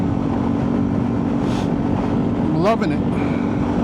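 A 2024 Honda Transalp with a flashed ECU is ridden on the road, its engine droning steadily under wind noise, with a brief rising rev near the end while the rider speaks a few words.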